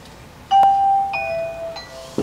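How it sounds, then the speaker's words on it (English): A two-tone electronic doorbell chime rings indoors, a clear ding-dong with a ringing tail followed by another tone, fairly loud and close, with a short bump of room noise at the end. "Why are you ringing the doorbell?"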